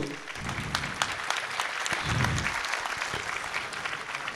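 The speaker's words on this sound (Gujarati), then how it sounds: "આપણે સૌ તાળીઓથી વધાવતા રહીશું." A student audience at a career guidance seminar in Surat claps steadily and loudly for several seconds, a dense continuous wash of applause with no voices over it.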